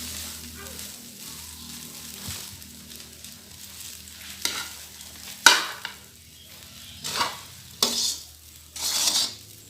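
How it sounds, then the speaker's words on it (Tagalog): Rice fries in a pan under a low steady sizzle, broken by several sharp scrapes and clanks of a utensil stirring against the metal, growing busier toward the end; no one speaks. "I-fry natin ang rice. Haluin natin ng maigi."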